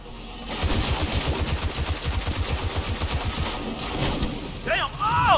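Sustained rapid gunfire in Destiny 2 fills the scene with dense, repeated automatic bursts close by, and a brief excited voice cries out near the end.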